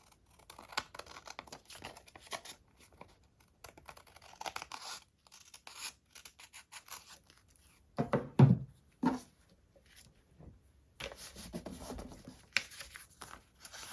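Close, quiet scissor snips and rustles come from cutting vellum paper to make a small pocket tag. The short cuts arrive in irregular bursts, with a louder crisp snip partway through.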